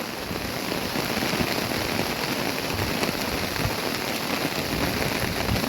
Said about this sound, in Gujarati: જોરદાર વરસાદ ચાલુ છે